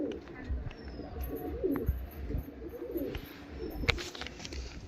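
Domestic pigeons, including a single male, coo in soft repeated bursts near a pigeon seller's stall, with a few sharp knocks and faint background noise between the calls.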